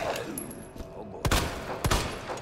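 Two sharp, loud gunshots from a handgun in the survival horror game Resident Evil 2 Remake, cracking out about half a second apart over a low ambient game backdrop.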